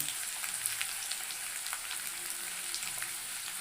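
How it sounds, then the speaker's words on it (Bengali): Potatoes frying in a pan for a tengra fish curry give off a continuous close hissing sizzle with faint crackles and pops throughout, and nobody speaks. "আলুটা একটু ভালো করে ভেজে নিই"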